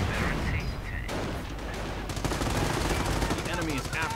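Dense battle gunfire from the WWII strategy game Company of Heroes, rapid machine-gun bursts and shots crackling continuously over a rumbling background, with a voice talking over it.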